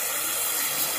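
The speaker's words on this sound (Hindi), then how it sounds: "अब इसको पानी मार के साफ करेंगे।" Water jet spraying hard into the oil galleries of a cylinder block, a steady close hiss and gush of water with no talk.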